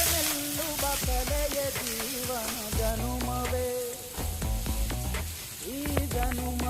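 Garlic, ginger and onion fry in hot oil in a pan, a steady sizzle running throughout with occasional scraping.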